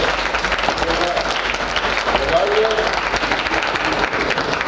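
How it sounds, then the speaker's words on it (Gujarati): An audience at a Chardham Bhagvat Katha Yatra gathering applauding Rohit, a dense, sustained round of clapping that fills the room at steady loudness, with a voice faintly underneath. "તો એક વખત જોરદાર તાળીઓથી રોહિતને"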